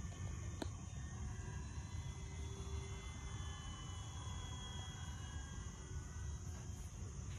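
An E-flite P-51D Mustang 1.5 m RC plane makes a slow pass with flaps down at about half throttle, its steady motor drone holding even throughout with faint wind noise and no talking.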